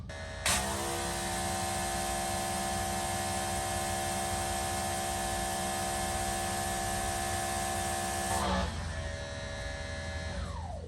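A Greenworks Pro 3000 psi electric pressure washer runs with a turbo nozzle, a loud steady whine and hum that starts abruptly, holds evenly for several seconds, then drops in pitch as the pump changes load.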